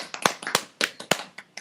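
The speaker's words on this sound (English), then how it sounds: "Everyone clap." A few people clap for a special guest in a small room, producing scattered, uneven claps that are close and fairly light, lasting under two seconds.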